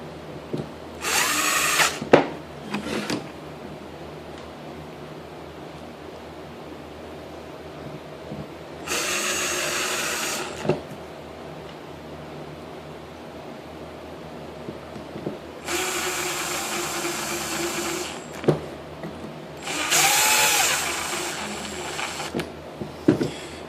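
A DeWalt impact gun drives screws in four loud bursts of whirring and hammering, each a few seconds long, separated by quieter pauses with faint handling noise.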